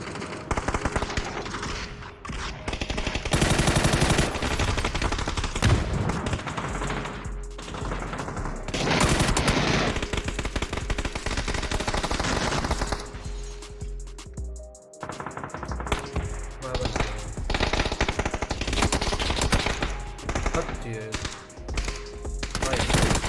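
Rapid automatic gunfire and scattered shots in an online shooter video game ranked match, loud and dense for most of the stretch, with a brief lull near the middle before the firing resumes.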